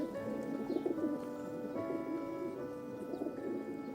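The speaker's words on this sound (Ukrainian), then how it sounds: "Одного разу голуб сидів на вікні Кирилка до самого вечора." Soft, low cooing from a pigeon repeats steadily over a murmur of background noise, fairly close and gentle.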